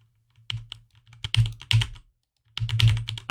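Close clicking keystrokes on a computer keyboard come in quick uneven bursts, pausing briefly before another rapid run of taps, with no talking.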